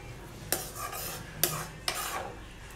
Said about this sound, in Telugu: మరొకసారి ఇవన్నీ కూడా బాగా కలిసేటట్టు మిక్స్ చేసుకోవాలండి.